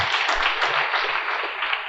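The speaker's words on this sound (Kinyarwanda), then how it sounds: "Imana tuyikomera amashyi menshi" A church congregation breaks into a burst of dense, steady applause, many hands clapping together for a couple of seconds.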